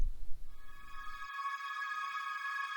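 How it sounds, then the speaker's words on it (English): A quiet synth pad swells in and sustains as a soft, even tone with stereo effects and vintage reverb, smooth and alone for a few seconds. "Next up, I've got this pad I added."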